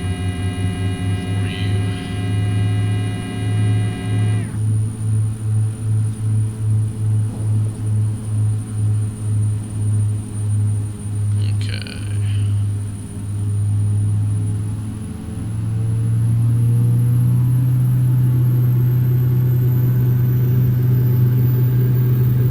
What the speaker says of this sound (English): I'll go ahead and actually demonstrate a max performance takeoff for you.